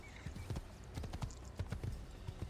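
Horse hooves gallop in Assassin's Creed, a steady quick clip-clop of four-beat strides, close and fairly quiet, with no talk over it.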